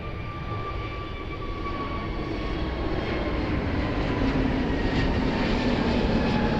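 An airplane takes off at Lisbon Airport, heard as a loud, steady, broadband engine roar that swells slightly as it goes on, with no break.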